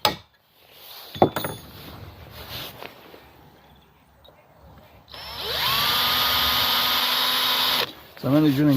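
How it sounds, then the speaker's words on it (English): Power drill boring a shallow hole about 1 mm deep into a Yamaha QT50 engine part, a steady high whine lasting roughly three seconds after some clinks and handling noises, ending as a voice speaks. "So I'm only drilling down about 1 millimetre."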